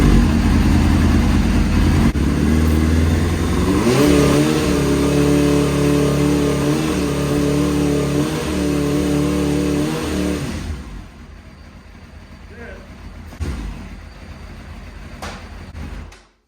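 Suzuki GSXR750 engine in a dirt bike build, idling loud and close and rising and falling in revs several times, then dropping to a quieter idle with a few clicks and clunks near the end.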